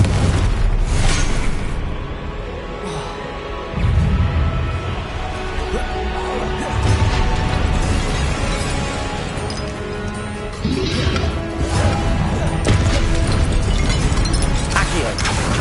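A Confringo fire spell blasts in Hogwarts Legacy, with loud booming explosions and crashing debris in repeated heavy surges.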